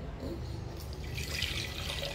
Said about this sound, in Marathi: या तांब्यात आपण हे पांढरं पाणी काढणार आहोत.